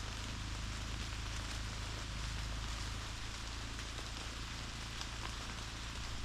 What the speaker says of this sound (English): It's still raining. not as bad as it was.